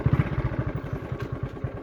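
A motorcycle engine runs nearby with a fast, even chugging pulse, close and steady throughout the short stretch without any speech.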